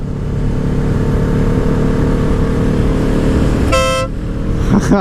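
A single short, sharp blast from an upgraded Kawasaki Ninja 650 horn cuts in over a constant, loud engine rumble, close by.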